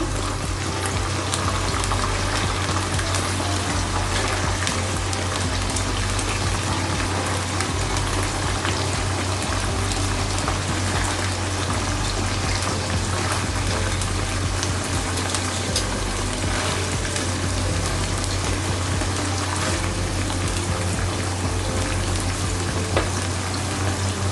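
Hilsa fish pieces, Barisal-style, fry in hot oil with a steady, dense sizzle and crackle that stays loud and even throughout, with no talk over it.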